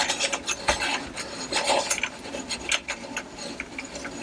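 An AR-15 receiver extension is spun by hand into the receiver threads, giving a close, dry rasping and rubbing of metal with small uneven scrapes and clicks, no voices.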